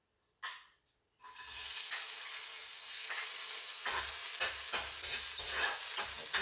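Garlic hits hot oil in a pan and erupts into a loud, steady sizzle after a brief clatter, with stirring scrapes and low thumps breaking through the continuous frying hiss.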